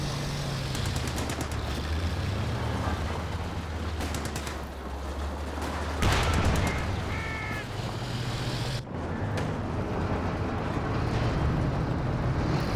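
Dense battlefield clamor from a Company of Heroes 2 multiplayer match: rattling bursts of machine-gun and rifle fire over a steady low rumble, with sharp explosions punching through near the middle and again toward the end, loud and continuous throughout.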